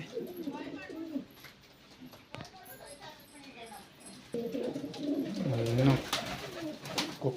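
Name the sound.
pigeons cooing in a loft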